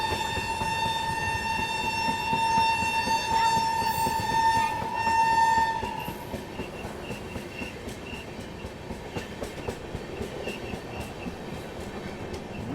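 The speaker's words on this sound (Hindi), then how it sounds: "क्या ज़बरदस्त हॉकिंग कर रहा है अपनी ट्रेन का लोकोमोटिव।" Shatabdi Express locomotive horn blaring in one long, loud, steady honk lasting several seconds, followed by the rhythmic clatter of the moving train on the rails.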